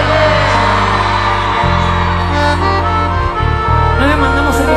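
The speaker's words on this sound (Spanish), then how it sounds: "El grito de todas esas mujeres." Women in a live concert audience scream together, a loud, sustained high-pitched crowd cry layered over steady music playing throughout.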